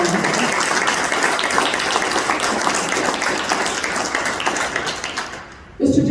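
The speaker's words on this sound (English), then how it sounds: "give yourselves a round of applause" A crowd applauds at a Diwali celebration in Chicago City Hall, with steady, full clapping from many hands that holds evenly and stops abruptly near the end as a voice begins.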